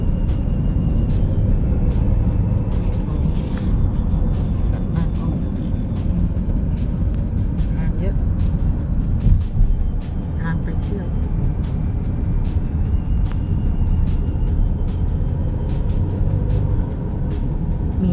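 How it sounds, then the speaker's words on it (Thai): Continuous road and engine rumble from inside a car in heavy traffic on the way to the sea in Korea, a dense steady drone with faint clicks, while someone talks over it. "รถเยอะมาก รถเยอะจริงๆ"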